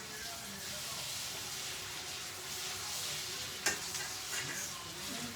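Smart Balance spread melting in hot olive oil in a pan, giving a steady, even hiss and sizzle, faint and continuous, with a couple of soft clinks partway through.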